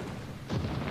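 A torpedo strikes the battleship New Mexico in World of Warships, a dull low boom that swells halfway through and rumbles on, fairly quiet and with no talk.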